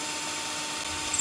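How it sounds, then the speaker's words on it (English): Drill bit boring through a glass bottle with a steady, dense high-pitched grinding whine that holds constant at close range, rising slightly at the very end. "you can hear the sound change as the drill's about to go all the way through the glass"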